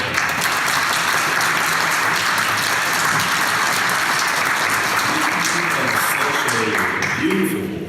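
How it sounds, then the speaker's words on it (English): Steady, dense applause rises from an audience at a Unitarian Universalist service, honoring a vocalist and a pianist after their music, loud and continuous with a few voices audible near the end. "let's give a vocalist and a pianist a round of applause"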